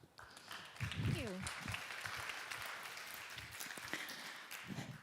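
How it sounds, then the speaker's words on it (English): Audience applause at a government technology conference welcomes the next speaker, a steady, moderately quiet patter of many hands that runs throughout, with voices and brief whoops mixed in. "So round of applause for our next speaker, Sofia."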